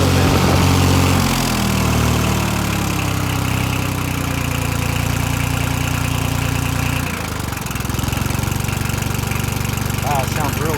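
A 1988 Yanmar tractor engine, revived after sitting six years, idles steadily with a loud, even diesel rumble and slight knock; it dips briefly midway, then settles back to a constant close idle.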